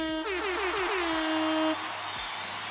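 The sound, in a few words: air horn sound effect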